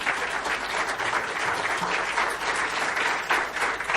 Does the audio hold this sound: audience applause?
yes